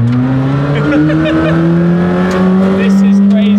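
McLaren Senna GTR race car engine accelerating in first gear, a loud rising drone heard from inside the car while a person talks over it.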